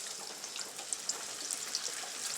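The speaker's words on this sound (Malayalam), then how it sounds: "നമുക്കിതിൻ്റെ അകത്തേക്ക് ഇട്ടൊന്ന് വറുത്ത് കോരി എടുക്കാം" Soaked green gram sizzles in hot oil for a fried savoury snack mix, a close, even crackle with small popping bursts scattered throughout.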